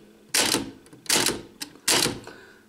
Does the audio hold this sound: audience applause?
no